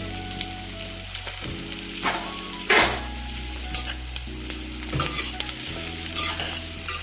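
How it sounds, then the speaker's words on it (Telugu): Large onions frying in a pan for a gongura curry, a steady sizzle broken by repeated scraping stirs and clatters of the spatula at a close, even level. "ఉల్లిపాయలు, ఉల్లిగడ్డలు ఇవన్నీ పెద్ద పెద్దవన్నీ కొంచెం ఫ్రై చేసుకుంటున్నాం."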